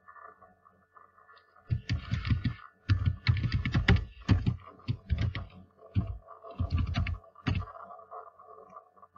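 Close computer keyboard typing while text is edited in a sports team banner template: clustered bursts of quick, fairly loud key clicks separated by short pauses, over a faint steady hum.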